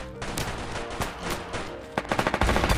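Gunfire rattles from an offline Android first-person shooter styled after CSGO, heard as single shots and short bursts that tighten into a rapid automatic volley at the end, loud and close with no talk over it.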